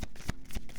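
Tarot cards are shuffled by hand in a few quick riffling bursts, close and crisp, with no talking.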